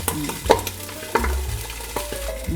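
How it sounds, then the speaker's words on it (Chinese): Close-up sizzling of milkfish frying skin-side down in a pan, with sharp crackles and pops of spattering oil over faint background music. "鱼皮这面比较容易喷油哈"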